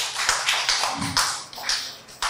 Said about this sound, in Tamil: சரி, கை தட்டுங்க.